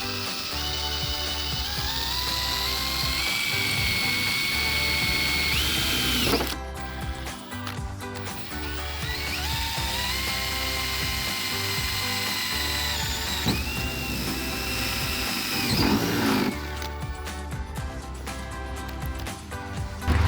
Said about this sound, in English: You have your drill, make sure it's set to a drill setting.